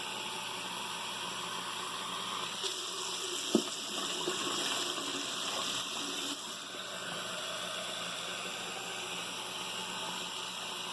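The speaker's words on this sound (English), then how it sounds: "I'm going to go ahead and just start filling up my bucket" Tap water pours steadily into a bucket being filled for a betta fish tank, a continuous hissing rush with a brief knock partway through and a slight change in tone as it fills.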